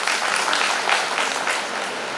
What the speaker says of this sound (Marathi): म्हणून तुम्ही स्वतःसाठी जोरदार टाळ्या वाजवा.